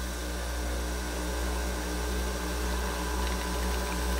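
A capsule espresso machine pumps water, a steady mechanical whirring and pumping drone throughout, loud and continuous, like a small machine working hard at close range.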